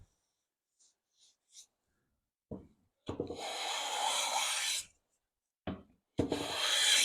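A hand plane shaves a medium brown wood in long, close rasping strokes, two extended passes preceded by short scraping starts, with quiet gaps between them.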